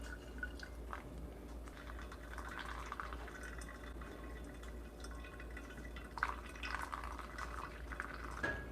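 Hot water poured over ground coffee in a V60 pour-over dripper, a soft, steady trickle with faint dripping and bubbling, quiet and close, with no talking.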